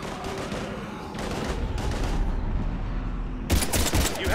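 Gunfire aimed at husks in Mass Effect 3, steady rattling shots under a constant rumble of battle, rising to a louder, closer volley near the end.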